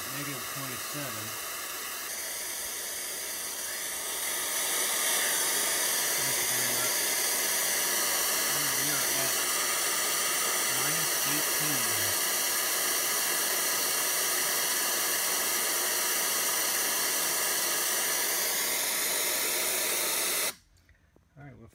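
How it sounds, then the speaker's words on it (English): Pink noise test signal from a recorder played through a Denon DJ mixer mic input, a loud steady broadband hiss sustained for about twenty seconds before cutting off abruptly, with faint background tones beneath. "I've got the computer playing some pink noise from my recorder here at negative 27."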